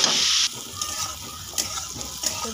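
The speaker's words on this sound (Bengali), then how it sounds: "এখন নেড়ে চেড়ে আমি বেগুনটাকে ভাজি করে নেব আগে" Eggplant with turmeric and salt stir-fries in hot oil, starting with a loud burst of sizzle that drops to a softer steady crackle, punctuated by a few sharp spatula scrapes close by.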